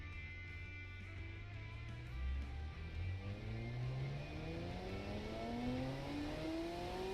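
A car with a flat-plane engine and reverse-flow mufflers revs up, its engine note climbing steadily in pitch, fairly quiet and muffled, rising after a brief idle.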